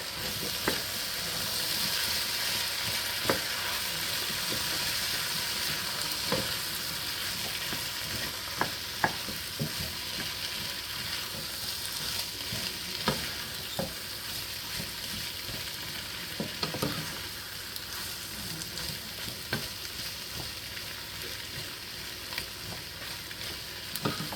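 Beef stew with tomato paste being stirred in a pot: steady broadband sizzle and simmer with scattered scraping clicks of the spoon against the pot, continuous and close, no voices.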